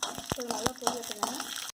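Lentils and mustard seeds frying in hot oil, giving a steady close crackle with sharp pops scattered through it.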